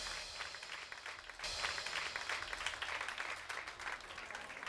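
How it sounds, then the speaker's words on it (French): Crowd applause at a wedding celebration with traditional dancing, a dense wash of clapping that swells after a softer opening and stays steady, heard fairly faint and distant. "Applaudissez tout le monde."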